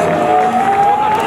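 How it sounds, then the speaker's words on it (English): A crowd at an elite women's final in Ängelholm makes a loud, continuous roar of cheering and clapping for a competitor, with a steady tone over the noise. "Let's clap support for her."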